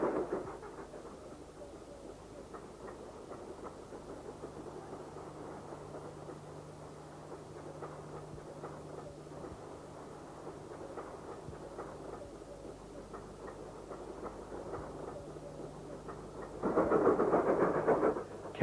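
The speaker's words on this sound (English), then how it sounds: "A Stanier Black 5 works the evening freight train out of Oban." A Stanier Black 5 steam locomotive hauls an evening freight train out of Oban, a steady rumbling chug with rhythmic wheel clatter rolling past at moderate distance, swelling louder near the end.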